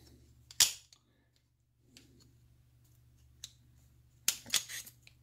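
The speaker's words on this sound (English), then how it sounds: "push the slide stop, boom, the gun comes apart" A Wilson Combat Classic 1911 9mm pistol is taken apart: a few sharp metallic clicks and snaps of the slide and parts, spread out between near-silent pauses, with a louder cluster of clacks at the end.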